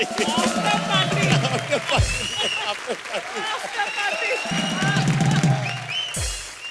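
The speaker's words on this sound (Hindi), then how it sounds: "जोरदार तालियां" Studio audience applause on a televised Hindi comedy show, loud clapping that overlaps with voices and stage sound, then a fresh burst of clapping near the end.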